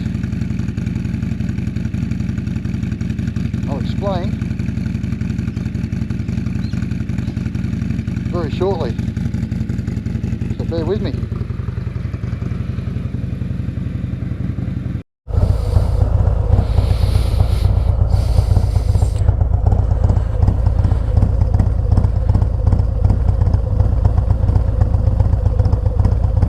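A loud, lumpy Harley-Davidson Road Glide Special V-twin motorcycle engine with a racing cam idling close by, a choppy uneven rumble, starting suddenly after a stretch of quieter background with someone talking.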